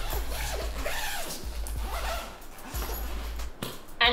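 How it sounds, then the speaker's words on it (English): A suitcase's expansion zipper is pulled along in a continuous, close, raspy run with small rhythmic catches, ending in a sharper final tug. "Oh, these also expand as well. So there's an extra zip on these."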